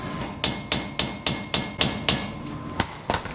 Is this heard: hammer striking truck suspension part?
yes